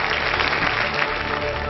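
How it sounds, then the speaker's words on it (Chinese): Audience clapping after a magic trick at a televised talent show, a dense steady wash of applause filling the short moment with no voices on top. "掌声鼓励"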